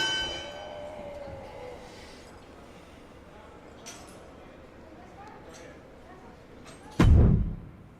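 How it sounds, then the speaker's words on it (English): Wrestling ring bell clangs sharply in WWE 2K23, a single loud strike near the end that rings out and decays quickly over faint crowd ambience and a commentator's voice. "Ring the bell."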